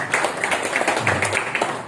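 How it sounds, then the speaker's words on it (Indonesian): Audience applause at a presentation on sponsor bonuses and rewards, a steady dense patter of many hands clapping at moderate loudness throughout, with a faint low hum beneath. "tepuk tangan untuk Bapak Ibu"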